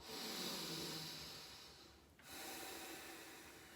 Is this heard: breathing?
yes